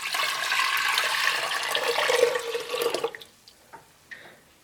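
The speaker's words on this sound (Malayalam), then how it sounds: "ഇനി ഇതിലേക്ക് വെള്ളം ചേർക്കാം." Water is poured into a pressure cooker holding lentils, a loud splashing gush that runs steadily for about three seconds, then gives way to a few faint drips and clinks.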